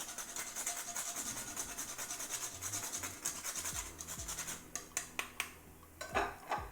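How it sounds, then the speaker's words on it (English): Nutmeg is grated over a béchamel sauce, giving a quiet, close, rapid rasping scratch that shifts into a few sharper taps and clinks from kitchenware. "many of you have been asking when I'll add the nutmeg, and this is the point. I'm just going to grate"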